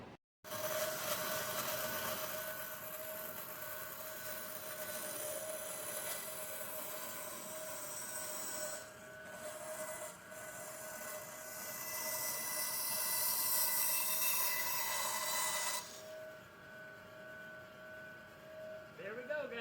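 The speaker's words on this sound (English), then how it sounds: "now I'm going to head over to bandsaw and I'm going to cut this pattern out" A bandsaw cuts out a traced wood pattern for a candle holder, a steady whining hum and rough blade rasp running loud and close almost the whole time, easing off briefly midway before the cut ends near the finish.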